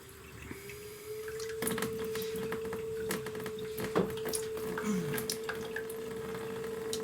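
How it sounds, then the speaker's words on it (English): Water running through the lines of a tiny house, a thin steady whine from the pipe under scattered drips, clicks and light splashes, nearby and fairly quiet, with no voices. "So I'm going to let some water through and capture some."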